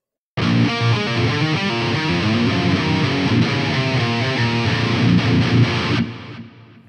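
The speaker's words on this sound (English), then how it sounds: "that's what a metal amp is supposed to sound like, in my opinion" Heavily distorted metal electric guitar through a Fractal AX8 with an overdrive boost and EQ, a thick chugging riff played alone for about six seconds before ringing out and fading.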